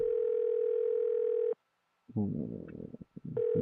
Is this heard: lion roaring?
no